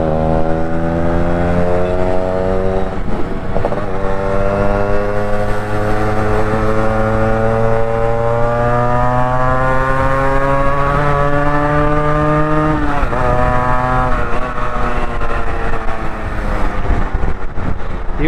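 A Yamaha RXZ two-stroke motorcycle being ridden fast on an open road, its engine droning loud and steady as the revs climb through gears, with one shift partway through and no voices.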